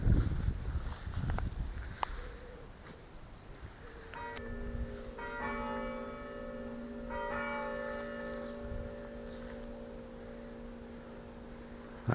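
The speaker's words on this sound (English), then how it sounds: "very atmospheric ringing of the bells." Church bells ringing at St Andrew, Barningham, in Suffolk, several clear tolls that begin after a few seconds of quiet outdoor ambience and ring on with long sustained tones.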